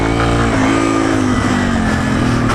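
A Yamaha TW200 motorcycle revs out on the street, its engine close and loud, pitch rising and holding steady as the throttle opens through the whole short stretch.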